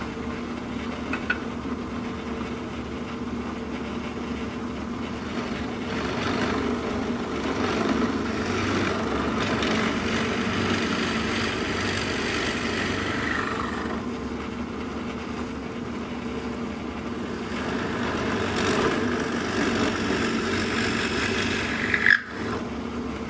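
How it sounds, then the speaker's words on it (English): A drill bores out the keel of a carved drake can gunner decoy, a steady motor whine and grinding hum running continuously for over twenty seconds, with a brief louder knock near the end. "Set my stop there, and then we'll drill this out."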